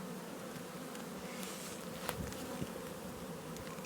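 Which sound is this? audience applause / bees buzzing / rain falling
bees buzzing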